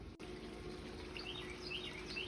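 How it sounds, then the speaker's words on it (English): Water sprays steadily from a newly installed garden sprinkler system, a continuous hiss close by, with faint bird chirps over the top and no talking. "this is the new little sprinkler system I put in"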